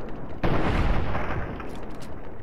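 A single sharp gunshot bang in the video game Fallout 3 rings out, then trails off into a booming, rumbling decay.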